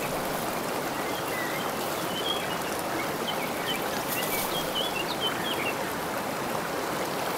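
The Mankuk river in Khosrov Forest State Reserve near Vedi, Armenia, flowing steadily, a continuous broad rush and trickle of water with faint bird calls over it and no talk.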